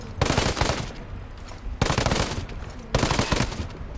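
Video-game gunfire hits a car in three loud, rapid machine-gun bursts about a second long each, separated by short pauses, close and dominant.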